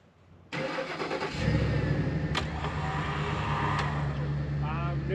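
A car engine cranks and catches, then settles into a loud, steady running rumble close by, with a few faint sounds over the engine noise.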